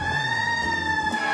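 A fire engine's wailing siren sounds steadily and fairly loud throughout as firefighters arrive, with no talk over it.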